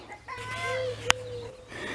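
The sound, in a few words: hens clucking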